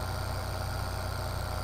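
A tractor engine in Farming Simulator 2013 runs at a steady low idle, a continuous mechanical hum with no change in pitch or rhythm.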